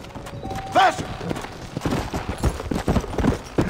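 A horse gallops in the Western video game Red Dead Redemption, its rhythmic hoofbeats thudding close under a brief whinny and clatter, with someone talking over it.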